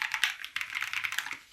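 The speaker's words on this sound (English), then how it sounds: "it actually feels like you're typing on a typewriter. But listen to the sound, bro." Rapid typing on a Keychron Q6 Ultra 8K black mechanical keyboard, a dense run of crisp, close key clacks with a quick uneven rhythm, heard alone without talk.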